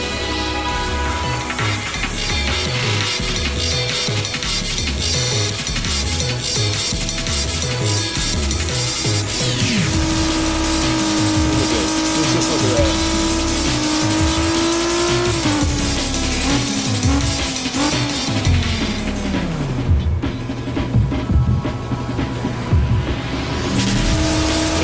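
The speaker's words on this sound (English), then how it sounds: "But it's a racing RPG." Racing cars in a racing RPG game roar continuously at close range with revving engine tones, gear shifts and tire squeals, the engine pitch climbing and dropping as the cars race along without pause.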